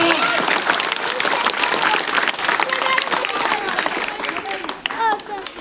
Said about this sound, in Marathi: मॅडम मध्ये टाळ्या मॅडम. त्याला मोठ्याने टाळ्या